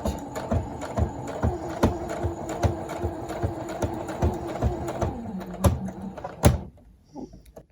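Sewing machine stitching a fabric face mask with elastic, rapid close mechanical thumping in a steady rhythm, slowing over bulky knots before stopping with a few clicks.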